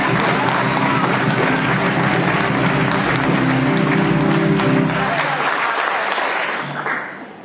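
A church congregation claps loudly and steadily, with sung or hummed tones underneath, before the clapping thins out and fades near the end.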